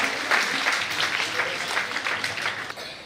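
A crowd at a student award ceremony breaks into lively applause, a thick, continuous patter of clapping that fades slightly toward the end.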